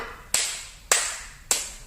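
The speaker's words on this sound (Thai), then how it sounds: "ปรบมือหนึ่งครั้ง ปรบมือสองครั้ง ปรบมือสามครั้ง" Three sharp, evenly spaced hand claps ring out alone in a quiet room during a follow-the-command movement and rhythm exercise, each clap crisp and close with a short decaying tail.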